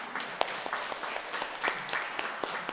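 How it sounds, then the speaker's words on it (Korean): Scattered applause from a church congregation during a Sunday Eucharist service, welcoming a new committee member; fairly faint, thin clapping that continues for a few seconds with a couple of sharper claps standing out. "박수 한번 쳐주시겠습니까?"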